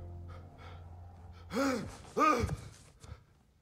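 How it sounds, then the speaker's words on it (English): Kratos's son in God of War Ragnarök draws shaky, trembling breaths, two loud quavering gasps in a row followed by a softer exhale, close and alone without speech. "Oh, you can hear his shaky breathing."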